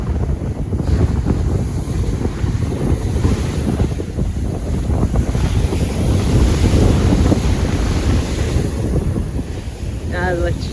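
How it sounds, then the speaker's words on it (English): Ocean waves break on a beach at sunrise as a continuous loud roar of surf, blended with heavy wind buffeting the microphone throughout and a brief brighter splash near the end. "But boy, are these waves something else, huh?"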